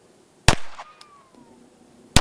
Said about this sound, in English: we'll break some shots on this 10-yard target with my CZ Bull Shadow